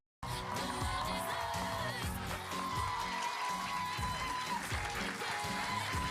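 A studio audience applauds a television talk-show host as he walks out, a dense, steady wash of clapping and crowd noise filling the whole stretch at moderate loudness without a break.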